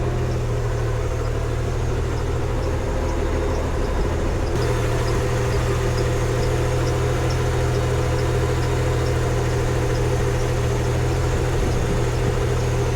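A Mercruiser marine engine, just fitted with new risers and manifolds, idles at operating temperature with a constant low droning hum that holds steady and close throughout, with no talk.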